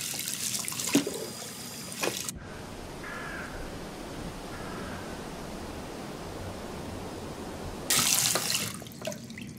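Tap water running in Life Is Strange: Captain Spirit, a steady broadband wash that starts abruptly and keeps flowing evenly, with brief louder bursts of other game sound at the start and near the end.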